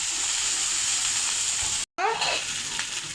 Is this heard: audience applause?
no